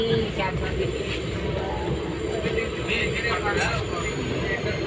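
Onboard a moving passenger train, a steady, loud rumble of wheels and carriage noise continues without a break.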